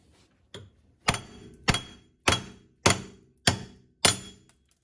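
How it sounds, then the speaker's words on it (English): Sharp metallic hammer blows on a Toyota Supra MK3 wheel hub ring out, one tentative tap and then six steady, evenly spaced strikes, each with a bright clang and brief decay, close by. "And now you just pound away."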